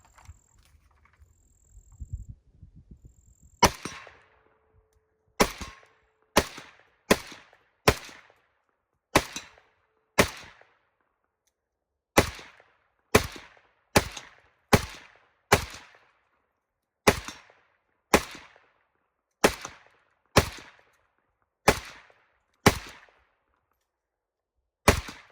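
A PSA AK-47 GF3 rifle fires a string of about twenty sharp single shots on an outdoor range, loud and near, with irregular gaps between them and nobody talking over them.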